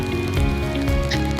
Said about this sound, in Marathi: त्याच्यामध्ये थेंब थेंब पाऊस पडतो